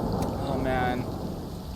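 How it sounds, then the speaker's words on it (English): Rain pours steadily in a video game as a constant broadband hiss, with a low rumble of thunder beneath it and a brief voice partway through. "I absolutely adore this rain. Ah, the sounds, they sound so good."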